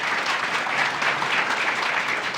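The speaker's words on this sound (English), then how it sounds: "Let's give them a round of applause." Steady audience applause at a headquarters grand opening ceremony, a dense, even patter of clapping hands filling the room without a break.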